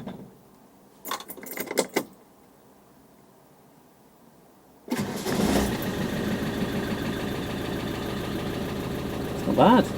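Keys jangle in a quiet stretch, then a Land Rover Defender engine cranks into life on its first start and settles into a steady, close idle that runs to the end.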